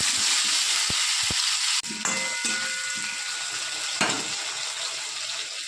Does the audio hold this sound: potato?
yes